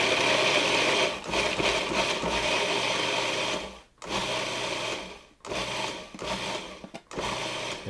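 A food processor pulses walnuts and sugar into sand-like grains for muffin streusel, giving several loud, close whirring bursts of one to two seconds separated by brief silent gaps.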